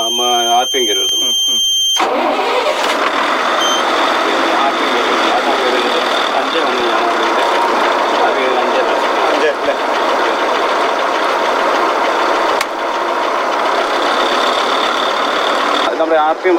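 A tourist bus engine turns over and settles into a steady, loud diesel idle with a constant rumble and whine. A short burst of beeping precedes the start.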